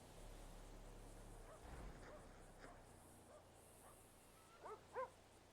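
In a video game, a dog gives a few faint, distant barks and yips that come near the end, over quiet background ambience.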